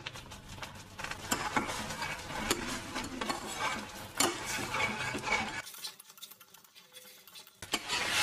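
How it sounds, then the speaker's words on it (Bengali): A thick spiced gravy with turmeric, cumin powder, salt and garam masala is sautéed with a splash of water, giving close, irregular scraping and patter of a spoon against the pan, then a brief quieter gap before the stirring resumes. "সাথে একটুখানি জল দিয়ে আমি এবার কষিয়ে নিচ্ছি।"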